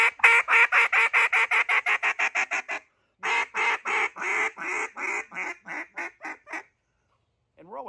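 A cutdown duck call blown hard in loud, punchy quacking runs, a fast descending series of about a dozen quacks, a pause, then a slower second series, imitating high-flying ducks.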